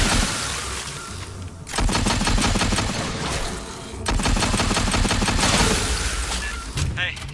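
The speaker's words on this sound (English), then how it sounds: "I heard gunfire." Heavy automatic gunfire in the Aliens: Fireteam Elite video game, two sustained bursts of rapid shots lasting a couple of seconds each, loud and close, with brief lulls and a faint voice between them.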